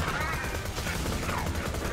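A Slaga submachine gun fires in a rapid, continuous stream of shots within a busy video game battle, loud and close throughout.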